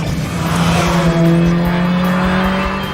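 A BMW M1 sports car engine roars loud and steady at high revs, its tone climbing slightly as the car accelerates, with no talking.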